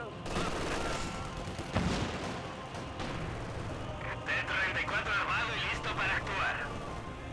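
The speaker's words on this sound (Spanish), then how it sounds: "Están dando tiros, igual debería ayudarles un poco." Distant gunfire and heavy battle booms rumble under a busy Company of Heroes 2 soundscape, with scattered sharp cracks and bursts throughout.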